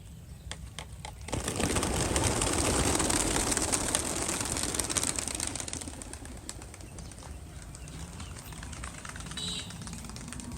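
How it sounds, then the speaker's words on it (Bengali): A flock of racing pigeons is let go over an open sandy field, and a dense burst of wing flapping swells up after a quiet second, then thins into a lighter, continuing flutter with scattered small clicks. "এখন কবুতরগুলো আমরা ছেড়ে দেব।"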